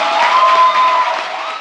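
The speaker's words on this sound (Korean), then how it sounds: "박수 한번 부탁드립니다." A studio audience claps together at a Korean talk show taping, a brief, dense and fairly loud burst of applause with no speech over it.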